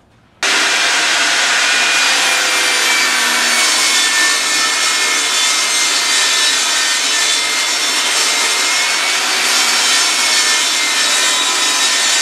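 A wood jointer planes a board for a replica great sword, starting abruptly and then roaring loud and steady with a broad rushing whine for the whole stretch, with no talking.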